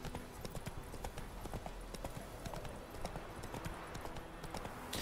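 Horse hooves clip-clop in Witcher 3: Wild Hunt, a quick, regular trotting beat of close hoof strikes that runs without a break over a soft ambient game backdrop.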